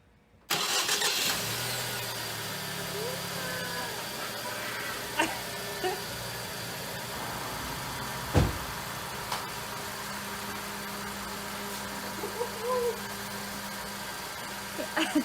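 A 2012 Ford Focus SE engine, after head gasket work, cranks and catches, then settles into a steady idle with a low rumble, a few clicks and knocks over the drone.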